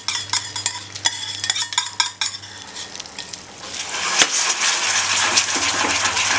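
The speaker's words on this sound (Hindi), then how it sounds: "और क्विकली इसको विस्क करिएगा" Cream whisked quickly into homemade butterscotch sauce in a pan: a close, busy scrape and clatter of stirring over a steady hot sizzle and bubbling, with no talking.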